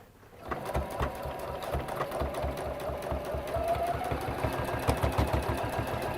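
A sewing machine stitches across fabric in a steady, rapid mechanical chatter that starts after a brief quiet moment and runs continuously at close range.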